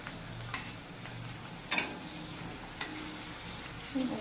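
Potato chakali fry in hot oil with a soft, steady sizzle, close but quiet, broken by a few sharp clicks and pops.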